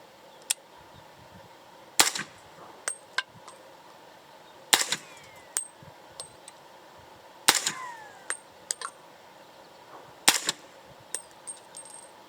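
A 300 Blackout rifle fires supersonic 150 grain factory ammunition outdoors, four sharp, loud shots spaced a few seconds apart, each with a short echoing tail, plus a few fainter clicks and pops in between.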